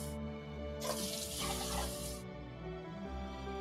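A kitchen faucet pours extra water into a pot of rice, a brief trickle and then a longer, louder rushing stream of about a second and a half before it stops, close by with no talking.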